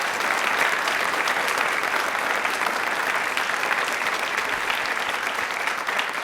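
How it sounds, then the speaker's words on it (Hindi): Audience applause for Prime Minister Narendra Modi at a quiz event, dense, steady clapping from a large crowd throughout, loud and sustained without a break. "तालियां इनके लिए जोरदार बजा दीजिए।"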